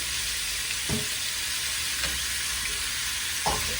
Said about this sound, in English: So I like to cook my ground meat first.